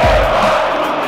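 Flamengo supporters roar in a packed Maracanã stadium during a Copa do Brasil match, a dense, loud, sustained crowd din with no single voice standing out.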